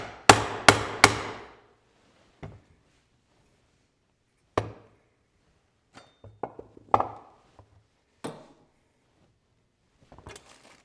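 A 1.5 inch bag punch is hammered through a leather belt for a snakeskin-covered handmade belt: three sharp, close strikes come first, followed by scattered single knocks and softer taps of workshop handling, with no talking.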